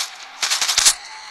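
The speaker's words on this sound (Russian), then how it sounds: "Это просто хорошо пулемет." A video game machine gun lets off a short rapid burst of about five or six loud, close shots, standing alone after a brief quiet lead-in.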